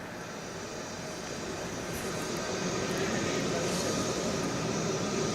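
An Indian Air Force C-17 transport jet on a rescue flight bringing Indians back from Israel produces a continuous engine roar that swells slightly louder, with no clear breaks.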